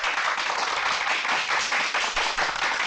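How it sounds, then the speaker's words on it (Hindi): An audience claps for the Janata Jagriti Dal leader Babban Rao Deshmukh as he is presented to them: dense, even applause that holds steady and fairly loud for about three seconds, with no voices over it. "बजाओ ताली"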